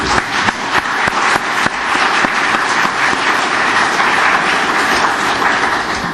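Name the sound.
applause at a public hearing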